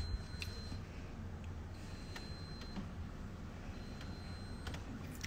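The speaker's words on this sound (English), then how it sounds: "What's the beeping? It's my fucking horrible refrigerator." A refrigerator's beeping alarm sounds as three faint, evenly spaced high tones, each lasting about a second, over a low indoor hum.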